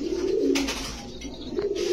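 Pigeons coo during courtship: two close, low, throaty coo phrases, one at the start and one near the end, with a rustle between them.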